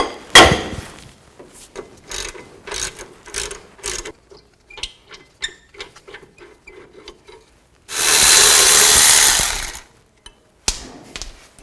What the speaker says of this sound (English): Loosen these up.